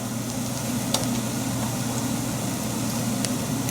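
Vegetable stock poured into a hot pan for a vegetarian gumbo, giving a steady, even sizzle and hiss that carries on without a break, close by, with a few faint clinks of stirring.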